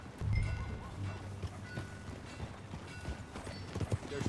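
Horse hooves clip-clop steadily in Red Dead Redemption 2 as a rider moves along, a continuous rhythmic trotting over dense background noise, with no talk.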